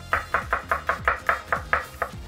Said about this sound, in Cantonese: 跟住切蒜頭，切片啦。